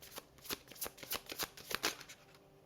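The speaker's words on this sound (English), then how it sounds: "these cards stick together. I've shuffled them over and over again." A tarot deck being shuffled by hand, a quick steady run of riffling card flutters repeating about every third of a second, close and fairly quiet with no talk.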